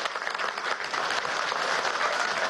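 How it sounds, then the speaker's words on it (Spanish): Steady applause from an audience at a Venezuelan state ceremony honoring a rescue task force, a dense crackle of many hands clapping at even loudness throughout, with no talk over it. "Es el aplauso."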